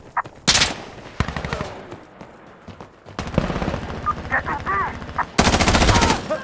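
In Insurgency Sandstorm, a weapon fires repeated close, loud gunshot bursts that alternate with quieter gaps. Someone talks between the bursts.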